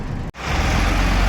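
A lorry engine runs with a steady, broad rumble, broken by one very brief cut near the start, with no voices.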